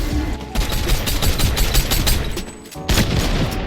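Pump shotgun fire in a video game, heard as loud, rapid blasts packed close together in a dense burst, a short lull, then more shots.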